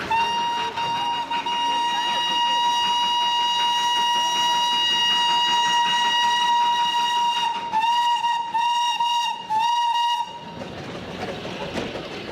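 A steam toy train on a narrow Himalayan mountain railway with loops and switchbacks sounds a long, loud, steady whistle for about ten seconds, broken by a few short toots near the end, then trails off into a rushing hiss of steam.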